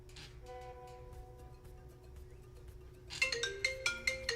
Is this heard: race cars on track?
no